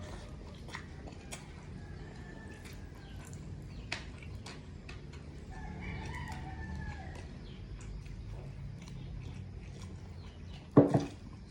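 A rooster crows in the distance amid faint clucking and chirping, followed near the end by a brief loud clatter close by.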